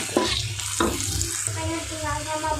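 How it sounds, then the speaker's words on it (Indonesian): Onions sautéing in a frying pan for a simple home-cooked vegetable dish, with a steady sizzle and a few clinks and scrapes of stirring, and no talking. "Harum ya bawangnya tadi. Oke. Tumis-tumis sampai layu."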